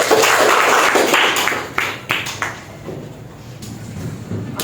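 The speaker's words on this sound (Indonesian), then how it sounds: "Kasih tepuk tangan dulu Keisha" A class of high school students claps for a classmate named Keisha in a Jakarta religious education lesson, a short burst of dense clapping that fades over a few seconds, with brief knocks and room noise.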